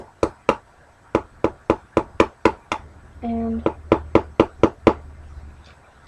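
A hammer knocking a tool into a monofin part, struck in a brisk run of sharp, close blows. The rhythm pauses once for a brief hum and a short spoken word, then the blows resume.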